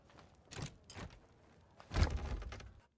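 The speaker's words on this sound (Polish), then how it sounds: "Otwórz drzwi dolne." A lower door opens in the Monkey Island game, with a few short creaks and clunks followed by a heavier thud and rumble, faint and isolated with no voices.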